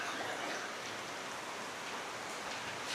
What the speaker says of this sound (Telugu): వర్షం పడుతూ ఉంది బాగా, ఇప్పుడే స్టార్ట్ అయింది.